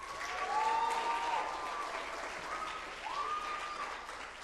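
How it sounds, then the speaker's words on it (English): Audience applause at a conference, a steady wash of clapping from many hands that swells and holds, with a faint tonal sound over it. "Can we give them a round of applause"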